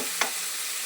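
Chicken pieces cut for roast sizzle steadily in a hot pan, with a single short scrape of a spoon stirring them near the start.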